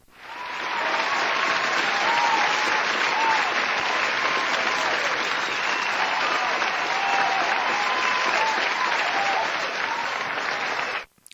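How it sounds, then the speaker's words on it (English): A crowd cheering sound effect: dense, loud applause and cheering that holds steady for about eleven seconds, then cuts off abruptly. "Let's have some crowd cheering."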